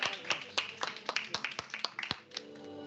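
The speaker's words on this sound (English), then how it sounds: "so we clap a lot, as you see" Scattered hand claps from a small audience honouring award recipients receiving medals, about a dozen distinct sharp claps spread unevenly over a few seconds, fairly close and moderately loud, with no voices over them.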